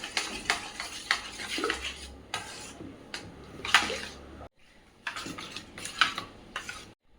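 Spices are stirred and mixed in a pan for a Bengali doi pona (rohu fish in yogurt) dish, with close, irregular scraping and clinking strokes of a utensil against metal, briefly pausing midway before the stirring resumes.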